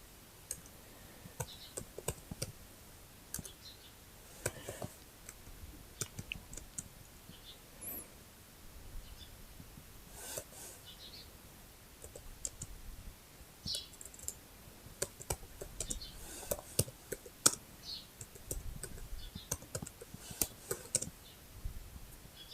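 Someone types a ChatGPT prompt asking for a 16x2 LCD program on a computer keyboard, producing irregular bursts of light key clicks and taps at close range over a low, quiet background.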